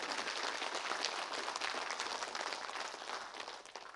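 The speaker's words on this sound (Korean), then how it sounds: "다 같이 참석해주신 내빈분들을 큰 박수로 환영해주시면 감사하겠습니다." An audience at a school patriotic concert applauding to welcome guests, a dense, steady wash of clapping from many hands that stays even throughout and tapers slightly at the end.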